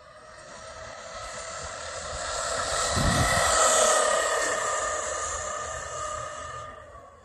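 A 2020 Arrma Granite 4x4 BLX V3 RC car on a 2S battery cruises past with a steady high electric whine that swells as it nears mid-clip and fades as it drives away.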